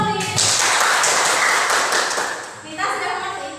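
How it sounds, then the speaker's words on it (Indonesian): A classroom of students breaks into brief applause for a classmate named Pauline, a dense burst of clapping and tapping that fades and then swells again briefly. "Tepuk tangan untuk Pauline."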